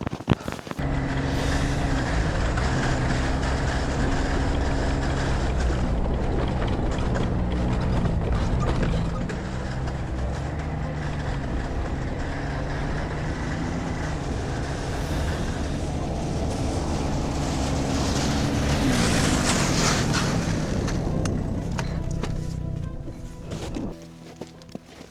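A snowmobile sled engine drones loudly and continuously while driving across lake ice in Cochrane, Ontario, with mechanical rattling and clanking over the engine before it cuts out near the end.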